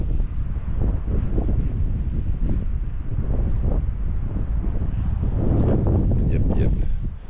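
Strong gusty wind buffets the microphone in the Vätsäri wilderness of northern Finland, a continuous loud low roar with rushing gusts, while a person speaks over it.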